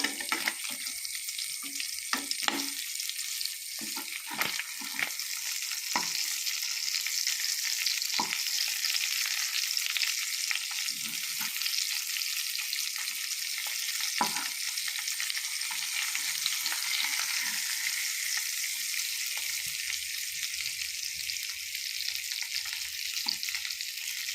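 Sardines fry in oil in a pan for a Kerala-style sardine fry, giving a steady, close sizzle with faint stirring scrapes and a few soft clicks throughout.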